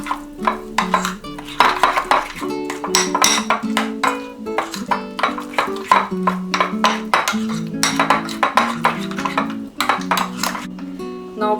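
Gram flour marinade for paneer tikka is mixed in a bowl, a spoon clinking and scraping against the sides in quick, rhythmic strokes, close and fairly loud.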